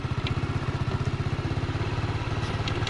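An Izh Planeta motorcycle with sidecar and a Chinese-made engine labouring up a hill, its engine thudding in a rapid, even low pulse with faint clatter, close and loud.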